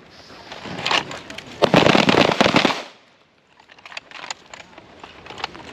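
Rifle gunshots on a shooting range, a rapid burst of sharp cracks packed closely together for a couple of seconds, then fainter scattered reports after a brief lull.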